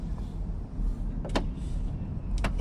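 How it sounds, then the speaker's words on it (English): The glass sunroof of a Range Rover Sport P510e Autobiography opens with a low electric motor whir, marked by two short mechanical clicks or thumps inside the cabin. "Obviously the glass sunroof opens up as well."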